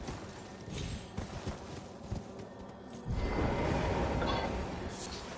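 Hooves of a horse mount in Elden Ring clip-clop in an uneven walking rhythm amid game ambience, growing denser and louder partway through.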